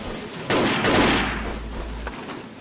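A burst of gunfire in the shooter game Wolfteam, a loud sustained volley that starts abruptly, swells and then trails off into a fading rumble, with no voices.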